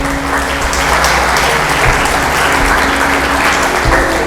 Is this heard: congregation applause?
yes